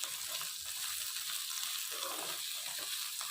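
Jackfruit seeds tossed with pepper powder sizzle in a hot pan, a steady bright hiss with soft stirring scrapes beneath it.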